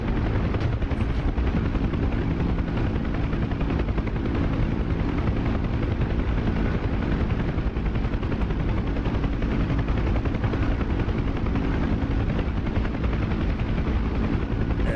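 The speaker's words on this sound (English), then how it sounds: "I'm gonna fly the helicopter now." A UH-1 Huey helicopter in the DCS combat flight game, its rotor and turbine drone loud and constant from start to finish, with a dense rapid thumping texture and no pauses.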